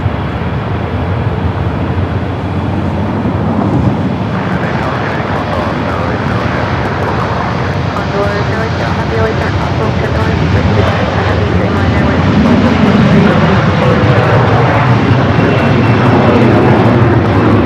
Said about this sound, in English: Dreamliner up next for arrival.